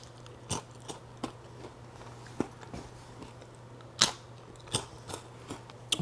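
Homemade air fryer Cheez-It crackers are chewed close up, giving a series of sharp, irregular crunches and bites spaced about half a second to a second apart over a low steady hum.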